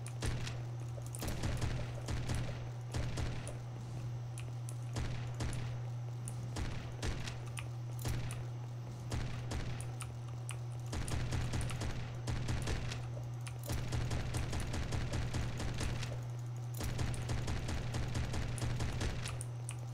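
Rapid gunfire in a small Ludum Dare indie video game pours into shielded enemies, a steady stream of quiet, clipped shots in long bursts over a constant low hum.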